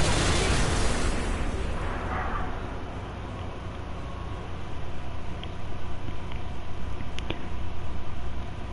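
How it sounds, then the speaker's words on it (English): Video game explosions burst out loudly at the start, then give way to a rumbling, crackling battle din with scattered pops that swells again toward the end. "Explosions."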